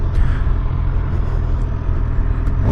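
A 2025 Suzuki GSX-R750 motorcycle engine rumbles steadily at close range as the bike pulls away, a continuous low drone with no voices.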